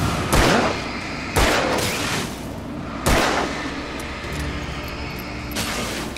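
Shotgun fire in Alan Wake: four loud, sharp blasts spaced a second or two apart, each with a short rumbling tail, over a low steady game background.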